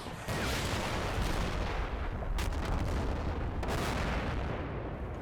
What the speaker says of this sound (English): fairly ineffectual artillery